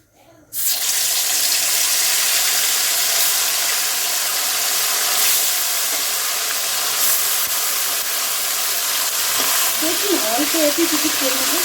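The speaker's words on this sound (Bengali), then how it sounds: "এবার মা মাছগুলো ফ্রাই করে নেবে" Sea fish, kokila, drops into hot mustard oil seasoned with turmeric and salt, setting off a sudden loud, dense, continuous sizzle that holds steady up close, with a voice briefly audible near the end.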